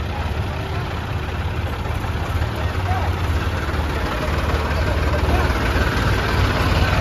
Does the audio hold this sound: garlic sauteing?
no